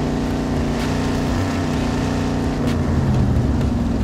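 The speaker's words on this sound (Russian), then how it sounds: "Катер заправлен, топлива достаточно." Motorboat engine in the video game Call of Duty Warzone 2.0, a loud, steady droning hum with a churning low rumble that holds throughout, close and continuous with no talk.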